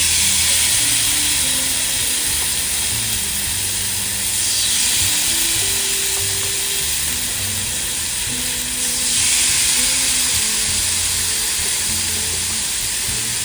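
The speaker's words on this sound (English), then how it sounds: "Oh, listen to that sizzle" Salmon fillets sizzle loudly and steadily skin side down on a hot Ninja Sizzle grill, a dense crackling hiss that swells now and then, with no talking.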